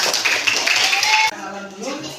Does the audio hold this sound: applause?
yes